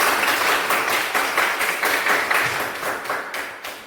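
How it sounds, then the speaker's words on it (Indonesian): Students in a classroom clap together for a group, a lively burst of many hands with a loose rhythmic pulse that slowly fades over a few seconds. "kasih dulu tepuk tangan untuk kita"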